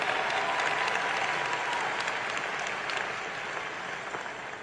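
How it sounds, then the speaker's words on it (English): Warm applause for university staff at a Howard University commencement, a large crowd clapping steadily and loudly, easing off slightly toward the end. "please give them a warm round of applause for such a quick turnaround"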